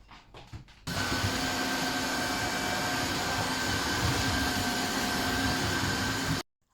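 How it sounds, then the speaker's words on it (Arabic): A Tineco wet-dry vacuum cleaner switches on abruptly after a few faint handling sounds, then runs with a steady, loud motor whir and airflow hiss before cutting off sharply. "بنات راح اشغل لكم المكنسة واشوف لكم الصوت مالتها"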